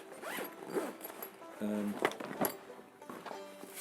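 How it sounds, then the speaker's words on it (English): A zipper closes along a Scent Crusher scent-proof gear bag in a few short, raspy strokes with small clicks between them, quiet and close. "and then this just zips up"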